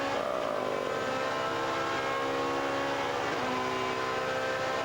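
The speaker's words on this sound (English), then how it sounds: "Here you see the car really flying over the curbs." A 2002 European Touring Car Championship race car engine screams at high revs on a lap, a loud, continuous close onboard whine that shifts pitch as the car brakes and changes gear.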